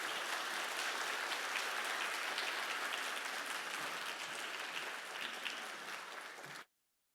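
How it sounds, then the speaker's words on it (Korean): An audience gives a dense, sustained round of applause to welcome a speaker at a seminary lecture event, steady and full for several seconds before cutting off abruptly. "나오실 때 우리 크게 환영의 박수 한번 하겠습니다."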